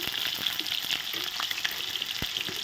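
Potatoes frying in a pan for egg ghugni make a continuous soft sizzle with small crackles and occasional stirring clicks, fairly quiet and close.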